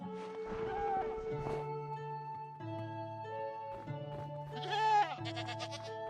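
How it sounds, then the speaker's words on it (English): Goats screaming in Minecraft on a 1:1 scale map of Earth, loud harmonic bleats repeating in bursts over several seconds, layered and overlapping, with game sounds running under them. "Don't forget all of the screaming goats."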